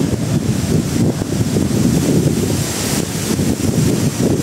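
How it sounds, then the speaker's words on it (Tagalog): Strong gusts buffet the microphone outdoors, a loud, continuous low rumble with no pauses and no voices over it. "Lakas ng hangin."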